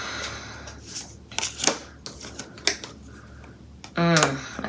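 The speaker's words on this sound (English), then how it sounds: "I'm gonna pull 2 more cards." Tarot cards shuffled and pulled from the deck, close crisp riffles and snaps in short bursts with a longer flurry near the end, over a quiet room.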